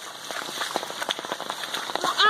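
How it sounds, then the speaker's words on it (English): Heavy, flooding rain pelts a campsite, a dense close patter of drops and splashes on wet surfaces with brief sharper hits. "it's just like flooding rain"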